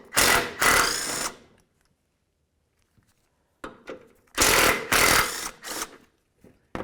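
Power tool zipping out 15mm front shield bolts on a 1998-2007 Chevy Silverado, sharp close bursts of whirring separated by quiet gaps, with a pair of quick runs at the start and a cluster later.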